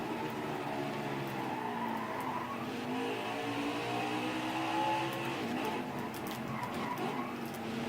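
A NASCAR race car in NASCAR Heat 5 laps the Indianapolis road course, its engine droning and revving continuously and loudly, with tire skids and squeals mixed in throughout.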